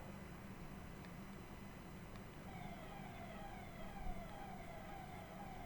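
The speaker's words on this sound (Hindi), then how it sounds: "इसी क्रम में सायरन बजाकर लोगों को कोरोना महामारी के प्रति भी जागरूक किया गया।" A siren sounded by police and local administration in Madhya Pradesh for Covid awareness, its faint rising and falling wail drifting in from a distance over steady low background noise, with no one talking.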